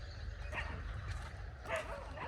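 Dogs in a village let out a couple of short, faint barks and yips at a distance over a low rumbling background.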